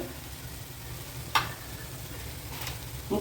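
Carrots frying and being stirred in a pan for idli podimas made from leftover idli: a low, steady sizzle with a couple of sharp spoon scrapes against the pan, fairly quiet throughout.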